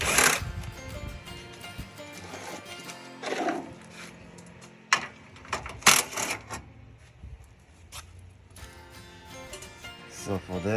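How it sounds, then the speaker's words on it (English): A wrench loosening 10mm bolts on a 2009-2015 Toyota Venza V6 during alternator replacement, giving close, irregular metallic clicks and clanks in clustered bursts over a steady low background. "Now we have these bolts right here. I'm gonna use a 10mm,"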